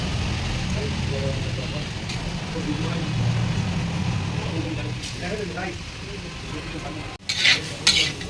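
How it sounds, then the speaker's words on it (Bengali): Washed rice frying in a pan for bhuna khichuri gives a steady low sizzle with occasional stirring scrapes. Near the end comes a sharp break and then louder clattering, hissing bursts. "সব ভিজে ভেজে নিচ্ছি আমি চালটা"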